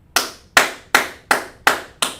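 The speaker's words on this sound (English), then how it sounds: "Clap it up for that sis" Six separate sharp hand claps, evenly spaced about every half second, close and crisp with quick decays and silence between them.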